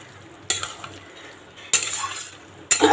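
Shrimp being stirred in a cooking pan for a curry, three bursts of scraping and sizzling at irregular intervals over a low sizzle, close.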